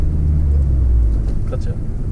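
A manual-transmission car's engine gives a loud, steady low rumble from inside the cabin while the driver works the clutch and shifts gears, with voices mixed in.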